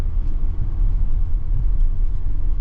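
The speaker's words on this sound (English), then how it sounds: "we are out driving this 2023 Infiniti QX60 Pure with the all-wheel drive" A 2023 Infiniti QX60 Pure with all-wheel drive cruising on the road, giving a steady low rumble of engine and road noise from inside the cabin, loud and continuous with no talking.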